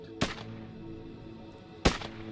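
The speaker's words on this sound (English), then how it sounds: "Gunshots rang out now and then, sporadic and desperate." Two sharp gunshot cracks, spaced well apart, cut through a quiet, dark ambient bed in a horror tale about a zombie outbreak at a Chicago police department.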